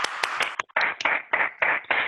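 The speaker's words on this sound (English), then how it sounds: "Let's give ourselves a big round of applause." Group applause from a live youth session for ages 12 and up, a short burst of uneven, overlapping claps that rise and fall in quick clusters for about two seconds.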